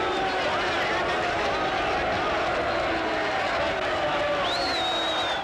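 Large crowd of furious farmers protesting against Prime Minister Gough Whitlam in Western Australia, a dense, continuous roar of voices and shouting that stays loud throughout.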